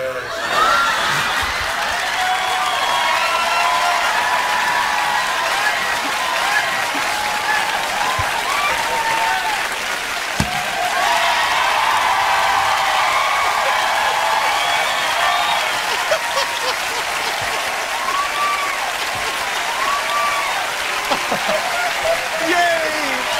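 A studio audience at a comedy improv show applauds loudly and steadily, with cheers and whoops rising through the clapping, and voices chatter faintly underneath.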